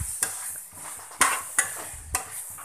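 A spoon stirs onion curry with curry leaves in a pan, scraping and clinking against the metal in several sharp knocks over a soft background sizzle; no one talks.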